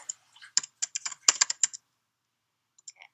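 Someone types a figure caption on a computer keyboard: a quick run of about a dozen crisp, close key clicks over a second or so, then silence and a few faint taps.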